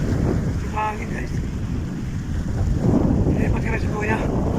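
Strong wind buffets the microphone at a ship port in Alang, Imay City, a steady roaring rush that swells and drops, with brief voices heard over it.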